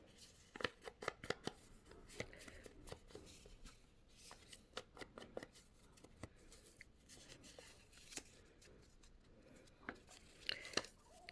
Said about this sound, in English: I'm going to cut it short just so you can see.